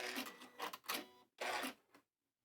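A sewing machine stitches a cushion in a few short, close mechanical runs with brief gaps between them, then stops abruptly.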